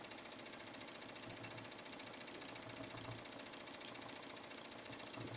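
An embroidery machine stitching out a black sunflower outline hums with a rapid, steady, even needle rhythm, faint and continuous throughout.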